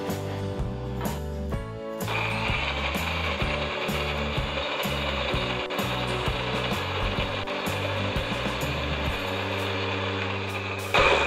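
A kitchen blender grinds curly chilies and spices with a little water, giving a loud, continuous whir with rapid rattling and chopping pulses for about nine seconds before it cuts off; no talk is heard.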